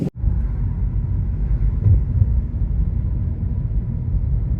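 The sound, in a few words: wind on island coast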